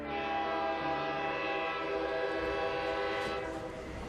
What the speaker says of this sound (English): Soon, there's a loud whistling as the fully loaded train lurches into motion